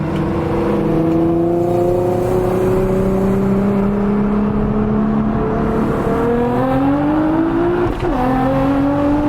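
A Nissan GT-R Nismo's engine pulls hard under acceleration, its loud, close drone rising steadily in pitch, then dipping briefly around a gear change before climbing again, no talking over it.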